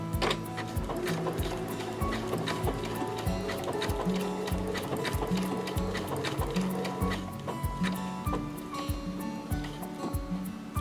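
A Baby Lock Crescendo sewing machine runs a blanket stitch on fabric, its needle mechanism clattering in a steady, fast repeating rhythm that stays close and even throughout with no talk.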